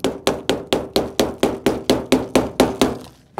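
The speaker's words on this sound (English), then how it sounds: "Hammer the plug in," About fourteen sharp, evenly spaced hammer blows drive a plug into a homemade rocket in a steady rhythm, loud and close, ending with a short pause before one more hit.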